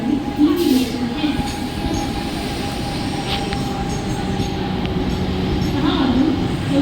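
A Mumbai local train stands and moves at a CSMT station platform, with a steady rumble, some wheel squeal and a faint tonal hum, while a platform announcement voice talks over it.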